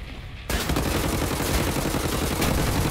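Two guns fire at once in Wolfenstein The New Order, a dense, rapid stream of loud automatic shots that starts abruptly after a brief lull and continues without pause to the end.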